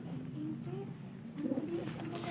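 Kolong pigeons cooing in low, soft repeated phrases, steady throughout with a slightly louder burst near the end, close by and continuous with no talk.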